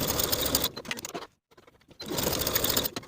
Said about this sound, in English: Sew with a 1/2 inch seam allowance and press the seams open.